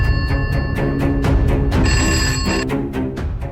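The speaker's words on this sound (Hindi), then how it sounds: "मैंने घर के लैंडलाइन पर फोन किया" A home landline telephone ringing, a loud, close electronic trill in repeated bursts over a busy dramatic music bed.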